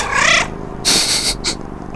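A cat meows loudly and close by, giving one drawn-out wail followed by two shorter, higher cries, with no speech.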